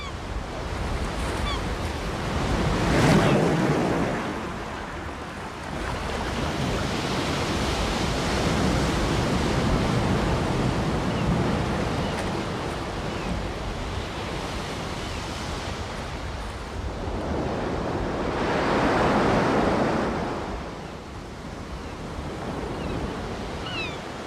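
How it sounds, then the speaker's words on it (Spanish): Atlantic waves breaking against the towering Cliffs of Moher, a steady distant roar of surf that swells into two louder crashes, one early and one near the end, with no voices. "Los frecuentes derrumbamientos nos indican la violencia con la que el mar asalta los acantilados."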